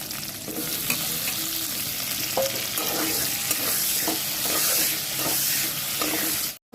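Potato pieces coated in salt and turmeric fry in oil for a fish curry, giving a continuous close sizzle with scattered stirring scrapes and taps, stopping abruptly at the end.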